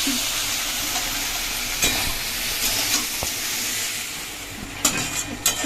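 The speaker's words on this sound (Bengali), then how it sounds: "আলু কিছুক্ষণ ভাজতে হবে ভালো করে" Potato pieces frying in a pan with salt and turmeric, a steady hissing sizzle close up, with a few sharp utensil scrapes and taps near the end and no one talking.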